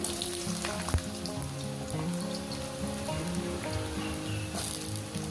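Potatoes sizzle and crackle steadily in a hot pan over a medium gas flame with cracked dried chillies, loud and close, with a few sharper pops and clatters over the frying.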